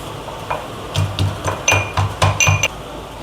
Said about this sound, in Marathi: आता मी उकळीमध्ये थोडे काजू बारीक करून घेते।